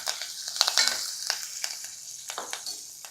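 Dried red chillies crackling in hot tempering oil for a cabbage fry, a steady bright sizzle with scattered sharp pops and spatula scrapes, fairly close and alone without any talk.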